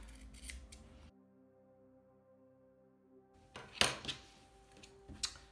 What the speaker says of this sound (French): Juste avant de retourner, on va couper les angles.